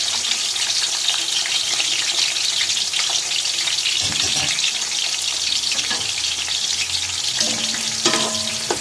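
Onions sizzle steadily in hot ghee in a cooking pot for chana pulao, with a continuous loud frying hiss and occasional stirring scrapes and clinks. No one talks.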